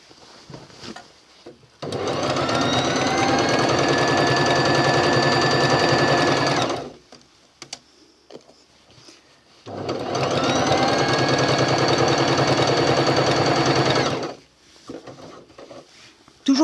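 A sewing machine stitches a replacement zipper onto a coat in two long steady runs of rapid, even motor-driven stitching, separated by a quiet pause with small handling sounds.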